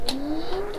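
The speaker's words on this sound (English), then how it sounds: "Somebody's revving up." A car engine in an engine swap project revs, its pitch climbing steadily in a strong rising tone that holds through the short burst, close and loud.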